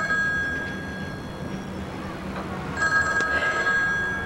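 A telephone rings in a quiet indoor setting, a steady electronic bell with repeated tones that swell louder partway through, heard alone with no talk.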